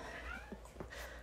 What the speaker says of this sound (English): Sorry, you hear my cat in the background.